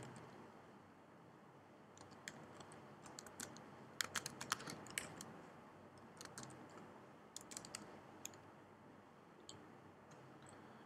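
A username being typed on a computer keyboard: a quiet, close run of quick, irregular key clicks in short bursts over faint room hiss.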